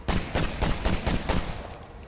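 Repeated explosions in the zombie game State of Decay 2, from rocket pods fired at a plague heart: a rapid run of loud booming blasts, roughly one every quarter second, that taper slightly toward the end.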